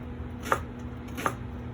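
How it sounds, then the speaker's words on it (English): A knife cutting a red onion into small cubes on a cutting board, two crisp, evenly spaced chops, close up over a quiet kitchen hum. "you'll see that I'm chopping up the red onion into little cubes"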